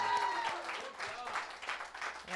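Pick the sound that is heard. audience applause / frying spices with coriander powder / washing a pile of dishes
audience applause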